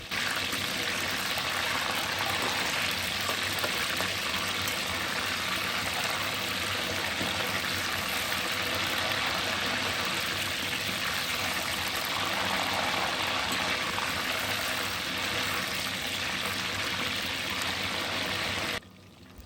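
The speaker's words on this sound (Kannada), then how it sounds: "ಅದು ಸೌಂಡು ನೀರಿನ ಅಂಶ ಇರೋದು, ಚಿಟಪಟ ಚಿಟಪಟ ಅಂತ ಇರೋದು" Mushrooms frying in hot oil give a steady, dense sizzle with fine crackling, close and continuous for the whole stretch with no talking.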